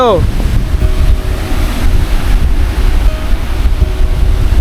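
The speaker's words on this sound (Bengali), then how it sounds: "সমুদ্রের অত জলরাশি আর ঢেউটা শুধু দেখো একবার অসাধারণ ঢেউ" Sea surf roars steadily at Tajpur beach near Digha with heavy wind buffeting the microphone, the waves blending into a constant loud wash.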